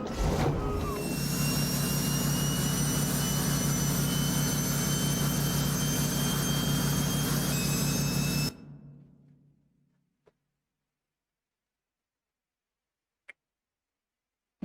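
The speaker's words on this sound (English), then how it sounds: "have a look at this jet sound" A jet engine sound from a battle truck mod in American Truck Simulator roars loud and steady with a high whine, then cuts off and winds down to silence, followed by two faint clicks.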